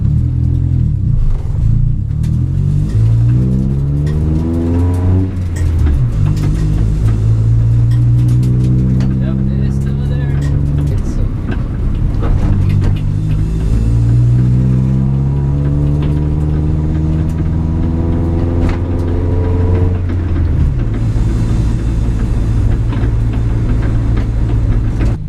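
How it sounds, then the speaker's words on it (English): A car engine with a rattling exhaust revs up and down several times, a loud, close, rumbling drone whose pitch repeatedly rises and falls. "Oh, so the exhaust rattle is still there."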